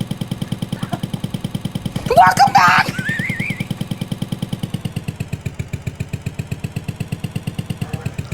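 A noisy motorcycle engine idles close by with a steady, rapid chugging pulse throughout, briefly masked by a louder burst near the middle while a voice speaks over it.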